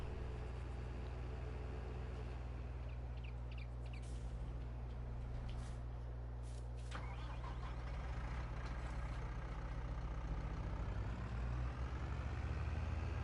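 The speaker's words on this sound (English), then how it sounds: "Now we'll finish plowing out that field with this tractor since it's free" Tractor in Farming Simulator 22 plowing a field, a steady low idling engine drone with a few brief mechanical clicks and hisses mid-way, no talk.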